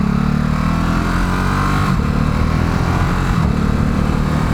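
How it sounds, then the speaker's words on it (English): A 2018 Ducati SuperSport S motorcycle engine runs loud and close, its exhaust note rising and dropping in short blips as the throttle shifts. "got a nice few little blips in the exhaust there"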